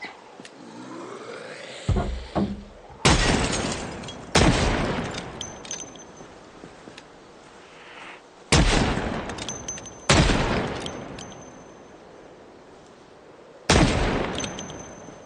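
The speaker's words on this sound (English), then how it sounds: "I'm gonna shoot them." Gunfire blasts at zombies in Project Zomboid, loud separate shots at irregular intervals, each with a long echoing tail, about six in all with quieter stretches between.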